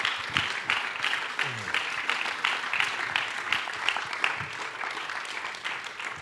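Audience applause at an onstage conversation at the Locarno Film Festival, a moderate, fairly distant patter of clapping sustained for several seconds with a faint voice briefly underneath.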